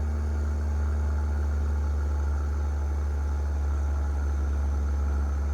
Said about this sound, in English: this engine doesn't seem to have too much power, that's for sure